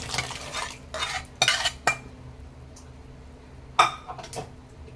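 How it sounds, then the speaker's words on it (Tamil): A spoon stirs mashed lentils into a pot of spinach sambar, giving scraping clinks against the metal in a few separate bursts over a steady low hum, with no one talking. "பருப்பை ஆட் பண்ணிட்டு நல்லா கிளறி விட்டுருங்க"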